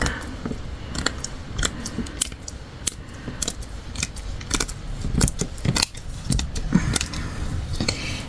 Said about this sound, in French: Je vais couper un petit peu plus grand que la page.